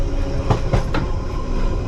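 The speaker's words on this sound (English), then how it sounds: "we're driving a sleet train, an operational sleet train" London Underground sleet train with de-icing equipment rolling along the rails, a steady rumbling run with three sharp wheel clicks over rail joints early on, close and continuous with no talking.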